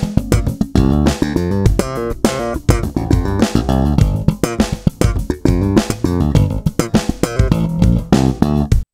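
Slap bass solo from a tune played at full speed, a busy run of percussive thumbed and popped notes with bright snaps, fast syncopated rhythm, close and loud with no other instruments or voices.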